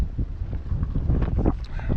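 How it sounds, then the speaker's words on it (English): Stiff outdoor wind buffets the microphone during a walk, a loud, gusty low roar that swells and fades in uneven pulses over two seconds with no talking. "Ooh, that's a pretty stiff breeze right there."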